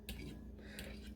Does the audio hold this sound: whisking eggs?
yes